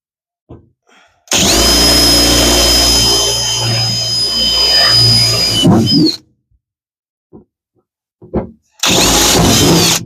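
A power drill with a step drill bit bores into the shifter console of a first-generation F-body Pontiac Firebird, whining loud and steady for about five seconds, then stopping, then a short second burst near the end.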